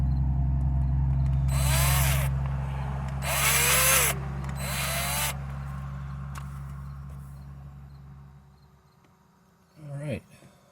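A power drill whirs in several short bursts while driving set screws back in on a van during roadside repairs, close and loud over a steady low hum, with a final brief buzz near the end.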